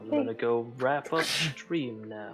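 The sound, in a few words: sneeze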